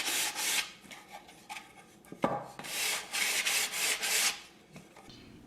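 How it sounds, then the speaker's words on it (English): A wooden box gets a quick sanding before staining: rough, rhythmic rasping strokes of sandpaper over wood, close and fairly quiet, in bursts with short pauses and a knock partway through. "I'm giving the box a quick sand so it will absorb the stain better."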